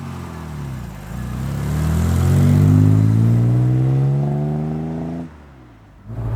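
An Aston Martin DB6 engine swells into a loud, close rev that holds for a few seconds and then drops off sharply to a quieter idle before picking up again.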